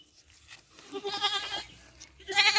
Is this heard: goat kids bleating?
yes